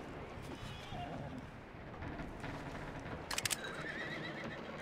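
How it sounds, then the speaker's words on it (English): A horse in the Western video game Red Dead Redemption neighs and whinnies amid game ambience, with a brief burst of sharp clatter near the end and faint hoof clip-clop in the mix. "I'm meant to take the horse, pick up your gun."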